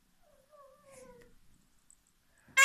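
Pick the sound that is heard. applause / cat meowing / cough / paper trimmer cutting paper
cat meowing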